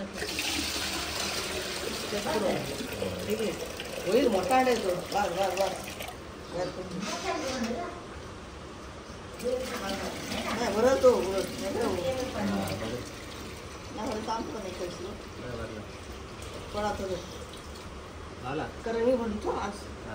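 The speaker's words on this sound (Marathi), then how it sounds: "डोंगरावरनं पाणी येतो सगळं खाली" Water rushes and splashes steadily down a mountainside in a continuous broad wash, with people talking over it throughout.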